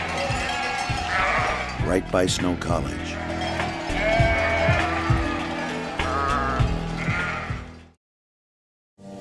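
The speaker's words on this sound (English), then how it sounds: "the sheep coming down the mountain," Sheep herd coming down the mountain near Snow College, with many bleats rising over a steady crowd-like bustle and possible cowbells, while someone talks over the scene before it cuts to silence.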